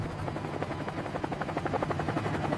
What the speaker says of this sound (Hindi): इसी सन्नाटे को चीरते हुए भारतीय वायुसेना के हेलीकॉप्टर आगे बढ़ रहे थे।